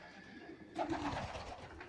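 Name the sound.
pigeons cooing in a breeding loft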